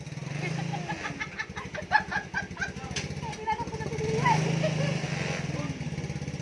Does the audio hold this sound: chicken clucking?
yes